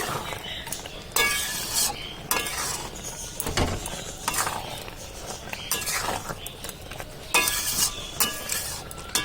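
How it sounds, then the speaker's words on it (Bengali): Dried jujube pickle thickening with jaggery in a pan, stirred with a spoon that scrapes and clinks against the metal in uneven bursts over a soft bubbling, with a voice speaking now and then. "আমি ভালো করে নেড়ে চেড়ে নিচ্ছি।"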